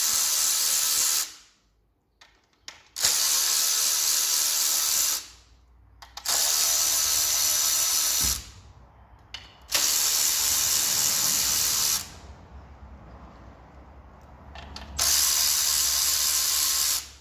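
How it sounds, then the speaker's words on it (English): A ratchet wrench works bolts and nuts loose on a BMW engine during a head gasket teardown, with several bursts of loud hissing, mechanical noise separated by near-silent gaps. "all I've got to do is crack all these bolts around on these nuts"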